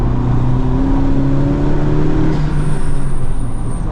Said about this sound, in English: Getting on throttle a little bit earlier there so we can run wide.